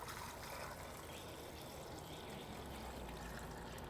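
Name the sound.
pot of red potatoes being covered with cool water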